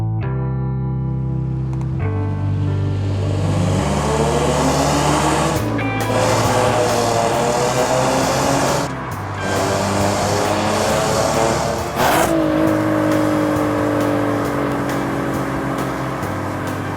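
An Audi A5 luxury car drives along a road, its engine note rising and falling through several gear changes, with steady tyre and road roar close by and no talk.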